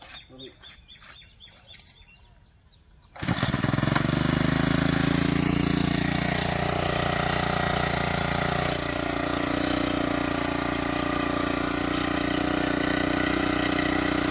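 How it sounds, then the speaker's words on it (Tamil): Petrol brush cutter fitted with a round blade for pruning a mango tree, starting abruptly after quiet outdoor sounds and then running loud and steady at a high droning idle. "ப்ரெஷ் கட்டர்லேருந்து நம்ம ரவுண்ட் நைஃப் யூஸ் பண்ணுறோம்"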